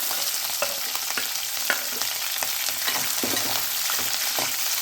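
Peanuts, green chillies, garlic and onion fry in a pan with a steady, close sizzle, broken by scattered clicks and scrapes from stirring. No one speaks.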